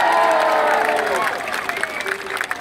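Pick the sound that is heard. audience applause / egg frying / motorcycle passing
audience applause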